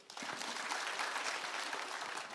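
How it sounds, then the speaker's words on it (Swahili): An audience at an outdoor community security forum in Nyamira Town, Kenya claps in dense, steady applause that rises quickly and holds at a full, even level throughout. "Haya, tujipikie makofi."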